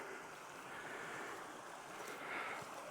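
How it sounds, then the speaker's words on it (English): Steady broadband rushing of a creek in the Victorian High Country beside a hut, continuous and fairly close, with a faint breezy hiss and no voices. "I can hear water running"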